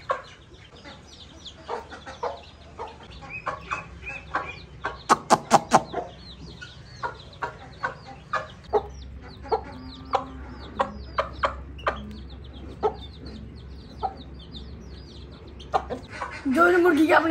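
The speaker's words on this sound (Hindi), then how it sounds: "मुर्गी देखे चिक्सों को ना खाना सिखा रही है कैसे खाते हैं।" A hen clucking while teaching her chicks to peck and eat: short, soft clucks repeated in a steady rhythm, with high chick cheeps scattered throughout and a few louder bursts near the start.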